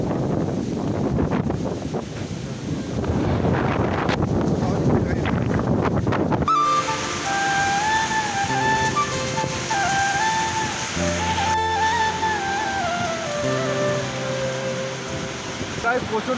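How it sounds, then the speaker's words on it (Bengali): Heavy rain and gusty wind roar loudly at a railway station during a storm for several seconds, then the scene cuts abruptly to quieter, tonal background sound. "বৃষ্টি হচ্ছে, দেখো তোমাদেরকে দেখাচ্ছি।"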